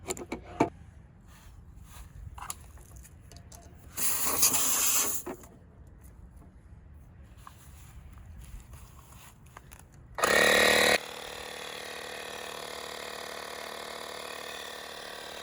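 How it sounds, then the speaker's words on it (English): An air compressor powered by a Jackery 300 Plus portable power station starts up after some clicking and handling, with two short loud bursts, then settles into a steady, continuous running hum. "So let's plug in an air compressor here."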